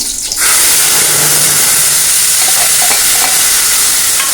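Blended tomato purée hits hot popped mustard seeds in a pan, setting off a steady, loud sizzle and hiss that runs unbroken from start to finish with faint stirring, no voices.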